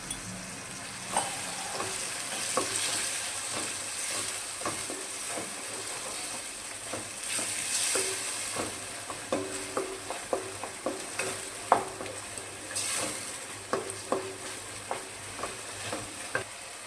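Onion, tomato and chili masala for dal khakhara sizzling and stirred in a pan after a splash of water, a steady hiss broken by repeated scraping clicks of a spoon, close and alone.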